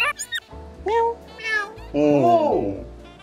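A Jardine's parrot imitates a cat's meow in a home bird sanctuary, giving several short, nasal, up-and-down mewing calls in quick succession, close and clear.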